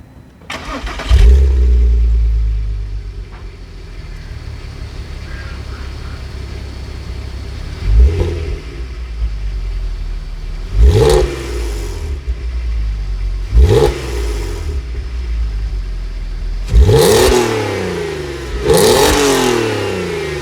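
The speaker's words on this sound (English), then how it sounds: "But let's start up, and you have to listen to this engine." A 2007 Audi TT Roadster's 3.2 VR6 engine cranks and fires, settles into a steady idle, then gives several sharp revs that swell and fall back, growing louder toward the end, with no talk.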